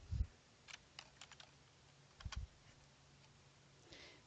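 Scattered keystrokes on a computer keyboard entering short spreadsheet cell entries, a few quick bursts of clicks separated by pauses, quiet and close with no talking.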